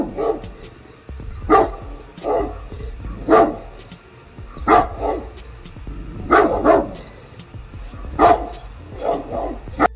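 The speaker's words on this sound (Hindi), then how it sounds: "पीछे कुत्ते भौंक रहे हैं।" Dogs bark repeatedly in the background, a steady series of fairly loud barks and yips spread over several seconds above a low rumbling hum, with no voices over them.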